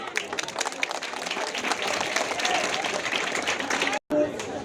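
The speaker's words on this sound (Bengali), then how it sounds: "স্যারের জন্য একটা হাততালি দিই আমরা।" An audience applauding an arriving guest at a gathering, a sustained patter of many hands clapping with crowd noise and voices mixed in, steady until a brief cut near the end.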